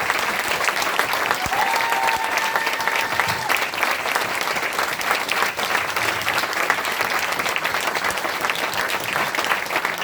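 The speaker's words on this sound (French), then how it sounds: "Une salve d'applaudissements pour notre auteur metteur en scène, Julien Jolivet." Steady, dense applause fills a theatre after an author-director is called to the stage, sustained and even throughout with a brief whistle near the start.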